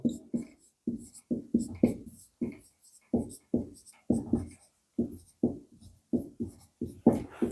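Chalk or marker writing a fraction on a board during a Hindi maths lesson, a steady series of short scratchy strokes in quick bursts, close and fairly loud, with no voice over them.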